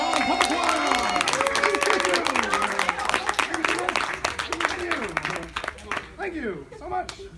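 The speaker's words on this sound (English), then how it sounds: "Round of applause for the New York Comic Con Puppet Choir" Audience clapping and cheering for the New York Comic Con puppet choir at a 2015 convention panel, a dense, sustained wash of applause under excited voices that thins out toward the end.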